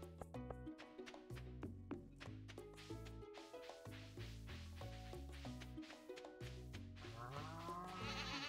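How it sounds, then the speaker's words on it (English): Goats bleat over a plucky melodic farm soundtrack in Stardew Valley Expanded, the calls blending with repeated bright notes and soft percussive taps throughout. "Okay, we got goat, big goat now"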